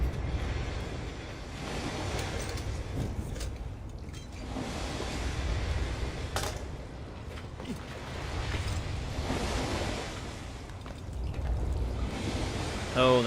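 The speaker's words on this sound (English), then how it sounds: "Hearing a lot of water." Water rushes steadily in Assassin's Creed 3, a broad surging wash like waves or a stream that swells and fades across the scene, fairly close and with no talking over it.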